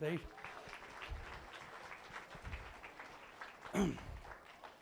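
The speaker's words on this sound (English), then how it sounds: "Let's give our senior showman a round of applause, please." A crowd applauds the senior showman at a 4-H market goat show at the Elbert County Fair, with scattered clapping mixed with voices talking and one louder burst near the end.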